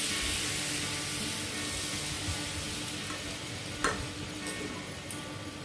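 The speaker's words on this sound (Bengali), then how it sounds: "এবার জিরে গুঁড়োটাকে ভালো করে কষিয়ে নেব।" A cumin spice paste stir-fries in a pan, a steady soft sizzle with a few light utensil taps and clicks near the end, close and unbroken by speech.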